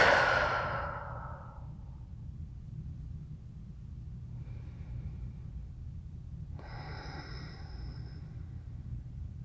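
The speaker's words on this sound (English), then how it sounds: "Okay, so deep breath." A deep breath is drawn in then exhaled as a long audible sigh near the start, followed by quieter breaths over a low background rumble.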